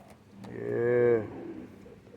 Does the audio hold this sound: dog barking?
no